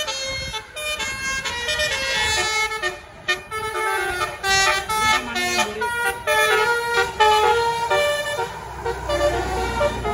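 A tour bus passing on the road to Pangandaran plays its musical telolet horn, a loud series of bright, tuned honks in quick melodic bursts over engine and traffic noise.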